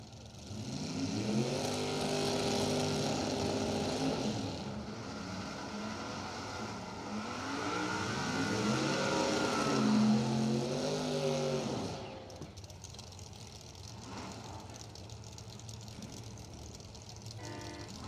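Street cars idle and creep around a drag racing burnout box, a continuous loud engine drone with wavering revs that holds for about twelve seconds, then drops to a quieter, distant rumble.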